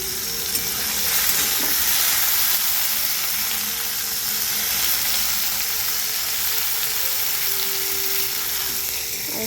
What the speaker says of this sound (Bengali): উচ্ছে আলু ভাজা।